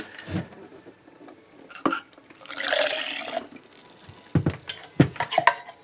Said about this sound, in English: Okay, so I'm gonna add some water to it.